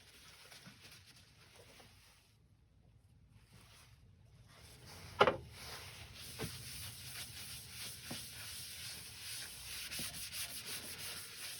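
Turned wood being smoothed with Yorkshire grit abrasive paste, a steady soft rubbing hiss running throughout at close range, with one brief sharp knock partway through and a few faint clicks.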